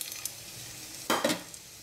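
Pepper and bay leaves drop into a hot pot for chicken bone soup, a steady sizzle of oil swelling into a brief louder hiss and a couple of stirring scrapes, close and without speech.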